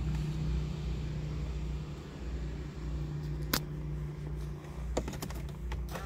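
A used automatic car's engine idles quietly, giving a steady low hum broken by a few sharp clicks. No one speaks.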